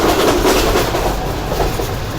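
Pak Business Express train running past Lodhran Junction railway station, a loud continuous rumble and rattle of wheels and carriages, close by and steady throughout.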